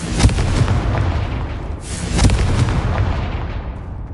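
Confringo spell blasts in Hogwarts Legacy: loud booming explosions, one near the start and another around the middle, each trailing into a rumbling decay, with no talking.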